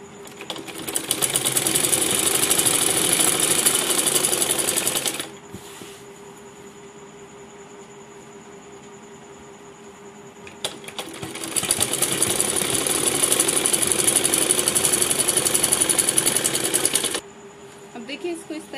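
Sewing machine running two long bursts of stitching along a salwar hem, each several seconds of steady loud whirring separated by a quieter pause, close up with no talk.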